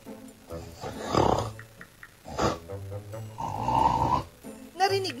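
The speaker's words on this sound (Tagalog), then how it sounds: "gabi-gabi kang walang tulog dahil may katabi kang humihilik?" Loud, rasping snores come in several heavy breaths with pauses between, rough and throaty, close up.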